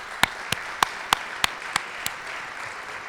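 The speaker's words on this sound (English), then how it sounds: "Let's give him another round of applause" Sparse, evenly spaced claps, about seven sharp hand claps roughly a third of a second apart, slowly thinning out over a steady room hum at an annual meeting and award ceremony.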